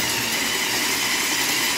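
Robot over-the-bumper intake with Versa rollers covered in neoprene rubber, driven by polycord, giving a steady broadband whirring hiss close up, continuous and unbroken.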